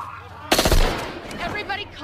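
A burst of rapid gunfire erupts in a tense scene from The Walking Dead, loud and sharp after a brief quiet, with voices shouting around the shots.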